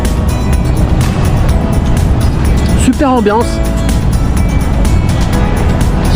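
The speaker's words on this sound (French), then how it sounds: "regardez tous les bateaux à moteur, même les voiliers" Motorboats and sailboats gathering at the start line of the Course la Med Max race, with a loud, constant roar of engines and wind on the water, and people talking excitedly over it.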